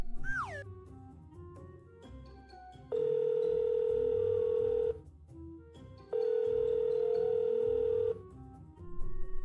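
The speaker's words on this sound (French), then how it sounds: "J'appelle le médecin tout de suite." Telephone tones from a call being placed to a doctor: two long steady electronic beeps of about two seconds each, separated by a short gap, clear and fairly loud over a low room background.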